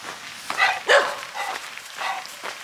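A dog barks several times at moderate distance in the rain, the short barks spaced irregularly over a soft rain hiss.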